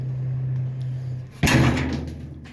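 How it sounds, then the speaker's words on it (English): The door of a 1929 Chrysler being worked on in a shop, a low hum giving way to a sharp thump as the door shuts, followed by a brief rattling settle up close. "door opening and closing."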